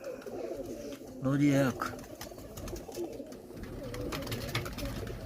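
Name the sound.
breeder pigeons cooing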